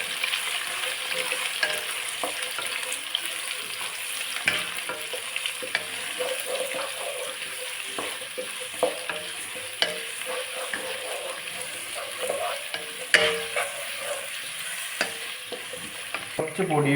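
Onions sauté in a pan of hot oil, a steady close sizzle broken by repeated scraping and stirring knocks throughout, with no voices.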